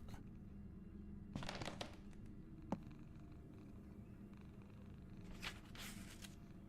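A cat purrs close by as a faint, low, continuous rumble, broken by a few short rustles and clicks.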